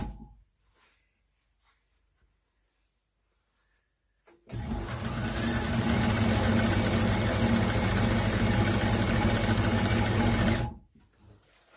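A Cowboy CB6900 cylinder-arm industrial sewing machine stitches in a zipper, starting after a few seconds of near silence, then running as a loud, steady, close whirring hum for about six seconds before stopping abruptly.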